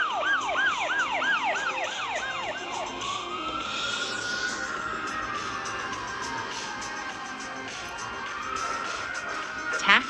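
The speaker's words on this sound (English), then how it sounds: "Ambulance. Скорая помощь." Wailing emergency siren from an ambulance in Hamburg, starting with rapid repeated yelps that slide into a long rising and falling wail, steady and fairly loud against street background.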